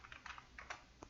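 Someone types on a new computer keyboard, soft close clicks in quick uneven bursts, quiet and alone with no talking.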